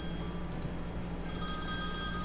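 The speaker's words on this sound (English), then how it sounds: "Oh no, phone." A telephone ringing in the video game Forever Someday, a repeating electronic bell tone over steady background hum, fairly close and with no speech.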